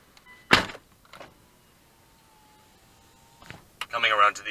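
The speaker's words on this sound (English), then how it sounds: "now let's go ahead and close the door" Door of a 2007 Hyundai Tucson GLS shut with one sharp, solid thunk, followed by a few faint knocks in a quiet space, then a voice starts speaking.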